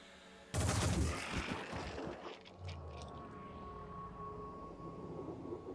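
Video game gunfire opens with a loud, sharp volley of shots, then trails into echoing reports and a fading rumble with a faint steady hum beneath.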